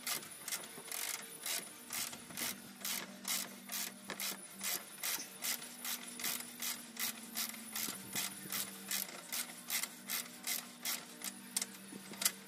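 Ratchet wrench clicking steadily in repeated bursts while tightening suspension bolts during a bushing and ball joint replacement, close and fairly loud with no talk.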